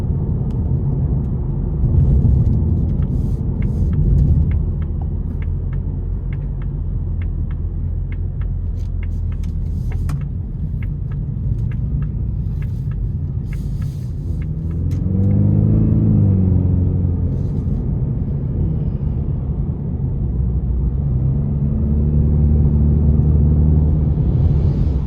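A 2025 Ford Mustang EcoBoost Premium with a turbocharged engine and 10-speed automatic accelerating on the road, a loud steady engine rumble with road noise from inside the cabin, rising and shifting in pitch partway through.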